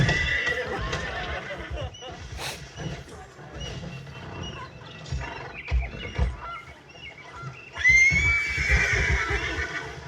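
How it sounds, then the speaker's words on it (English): Wagon horses in Red Dead Redemption II neigh loudly and clop along, whinnies rising over a hoof rhythm, with someone talking over the game sounds. "And you can't rehitch those horses either."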